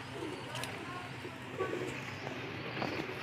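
Pigeons of a pure-blood Sialkoti breeding line coo softly in a low, steady murmur around a loft with cages, someone talking over them at moderate distance.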